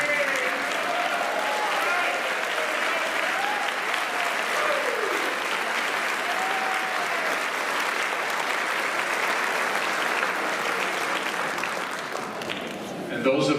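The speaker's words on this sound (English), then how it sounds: "So we're going to require that you stand so we can appropriately applaud you" Sustained audience applause at a community band concert for first-time attendees standing up, a dense even wash of many hands clapping throughout, with a voice briefly audible over it.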